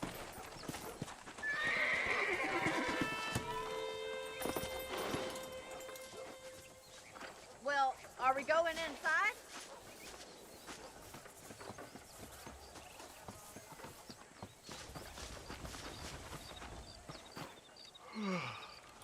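Galloping horse hooves clip-clop in a steady rhythm in Red Dead Redemption, followed by a loud, close whinny from the horse and later a brief second neigh, with quieter background sounds between.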